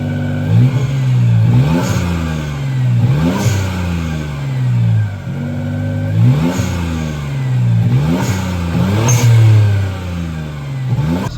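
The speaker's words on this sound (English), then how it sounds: "Yo, rev it real quick." A Suzuki Cappuccino engine, in a broken state with a leak, revs repeatedly, each blip rising and falling in a rhythmic series of about five loud, close bursts with no talk.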